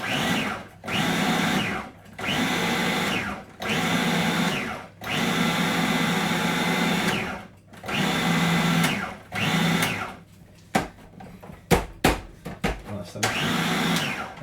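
A kitchen blender blitzes lamb with a mint and garlic salsa in repeated loud pulses, each whirring burst rising in pitch and cutting off, then a few clattering knocks before one more short spin.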